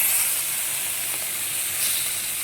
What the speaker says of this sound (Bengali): তেলটা কম হয়ে গেল মাছে ভাজাতে